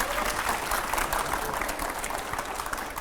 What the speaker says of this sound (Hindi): एक बार इनके लिए ताली बजा दो।